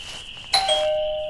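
A doorbell rings in the indie horror game Pizza Delivery: a sharp, loud two-tone ding-dong chime with ringing tones that fade slowly, heard alone without talk.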